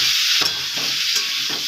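Jackfruit and prawn curry frying in a pan, a loud continuous sizzle broken by a few scraping stirs of a spatula, with no talking.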